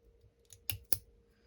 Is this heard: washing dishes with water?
no